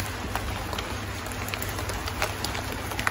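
Cold rain falling steadily, a dense even patter of drops striking surfaces nearby, continuous and moderately loud, with no voices.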